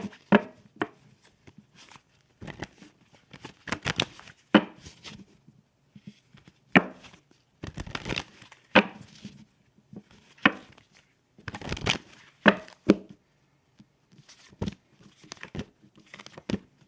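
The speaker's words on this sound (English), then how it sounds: "I'm going to pull some more cards." Tarot cards are shuffled and pulled in bursts of crisp, papery riffles and slaps, with irregular pauses between and the sounds close up, no one talking.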